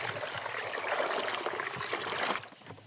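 Rusty, orange-tinted tap water runs from a household faucet in a steady splashing stream, fairly close and continuous, then cuts off abruptly near the end.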